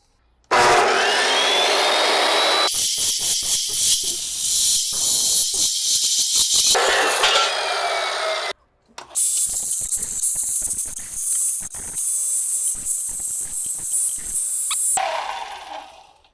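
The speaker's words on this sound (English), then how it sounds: "I'm going to cut me a piece of tubing to 19 inches" Steel tubing is cut to length in a workshop, two long stretches of loud, harsh, hissing grinding noise close by, separated by a brief pause.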